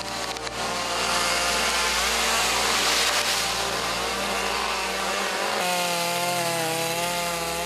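Chainsaw cutting trees during clear-cut logging in a Gangwon-do forest, a loud continuous buzzing whine that shifts pitch as it bites into wood and then eases near the end.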